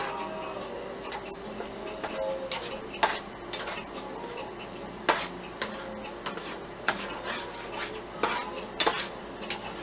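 Eggs for shrimp fried rice are stirred around a pan, with repeated metallic scraping and clinking of a utensil against the pan over a faint sizzle, close and continuous with sharp taps, and no talking.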